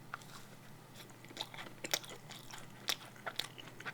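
A garlic-flavoured macaron is chewed close to the mic, giving soft crunchy bites and scattered crisp chewing clicks over a quiet background.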